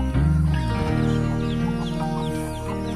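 Chickens clucking up in a cherry tree on a backyard farm in the morning, a steady run of close, loud overlapping clucks and calls with no talking.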